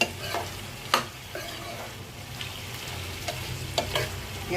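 Mixed vegetables fry in a pan with a steady close sizzle, broken by a few sharp scraping stirring strokes at irregular intervals, with no voices.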